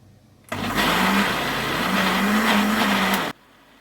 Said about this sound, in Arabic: كل دوت هنضربهم كويس جدا في الخلاط